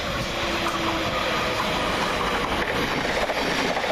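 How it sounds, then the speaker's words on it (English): A London Overground Class 378 electric train, unit 378144, pulls into Anerley station on a Highbury and Islington to West Croydon service, giving a continuous close rumble with wheel clatter and a faint steady tone early on. "Next train for London Overground is 378144, working the 12:30 London Overground service from Highbury and Islington to West Croydon."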